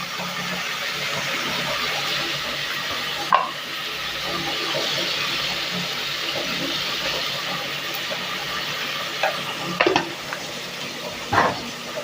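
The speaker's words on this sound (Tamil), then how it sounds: "ரெண்டு தக்காளியை போட்டுக்கலாம் இப்போ நல்லா மிக்ஸ் பண்ணிவிடுங்க" Two tomatoes with salt are sautéed in a pan for mushroom biryani, a soft continuous sizzle under occasional clinks and scrapes of a spoon stirring, fairly even and unaccompanied by talk.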